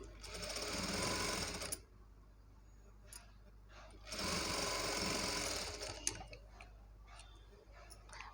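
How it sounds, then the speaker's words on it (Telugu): A sewing machine stitches blouse fabric near the back neck, running in two loud, steady bursts of rapid whirring stitching with quieter pauses and a few clicks between them. "ఇలా ఫోల్డింగ్ చేసి ఇక్కడైతే ఒక స్టిచ్ వేసేసుకోవాలి."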